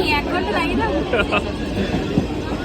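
Steady low rumble of a moving train carriage leaving Naihati, with murmuring passengers and indistinct chatter throughout.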